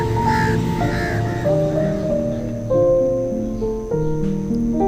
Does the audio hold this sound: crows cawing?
yes